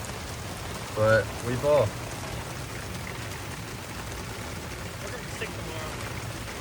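Heavy rain pours steadily on a golf course, a constant hiss of drops filling the scene from start to end, with a few short spoken words near the start.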